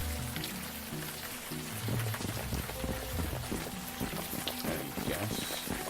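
Steady rainfall in the point-and-click game The Unavowed, a soft continuous patter on surfaces lasting throughout, with faint music tones and a low rumble underneath.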